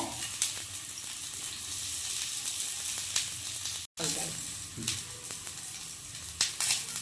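Garlic and ginger paste frying in a pan for Mangalore-style chicken puli munchi gives a loud, continuous sizzle with occasional stirring scrapes and one very brief cut in the sound midway.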